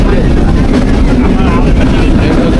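Steady loud rumble inside a running Bangladeshi local train, the Mahananda local between Khulna and Chuadanga, with continuous low engine and wheel drone filling the cabin throughout.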